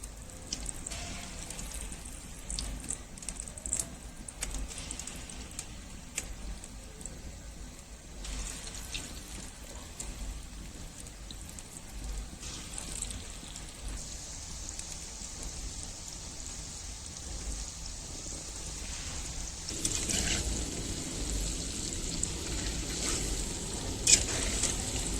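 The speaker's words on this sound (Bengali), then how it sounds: "তালের ফুলগুলো তেলের মধ্যে দিয়ে দিলাম।" Palm fritters (taler fuluri) fry in hot oil in a heated wok, a soft, steady crackling sizzle like light rain that persists throughout and grows louder and denser toward the end.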